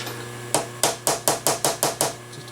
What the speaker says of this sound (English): Use the soft hammer now because I'm almost down to a finished surface.